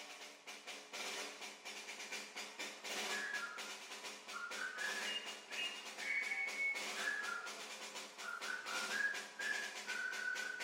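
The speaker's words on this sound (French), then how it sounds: "Il y en a qui ont sifflé." Whistling from the audience at a French Foreign Legion band concert in Nîmes, a wavering melodic whistle rising and falling over a faint hall background, fairly quiet and without talk.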